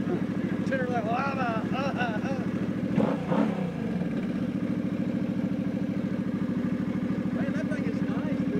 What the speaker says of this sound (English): engine started better, rev it 2 or 3 times, or 12 times to make sure